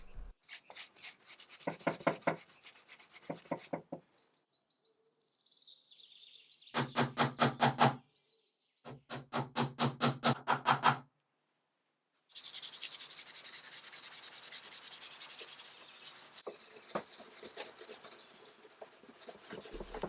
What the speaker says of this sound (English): I used some steel wool and gave everything a nice clean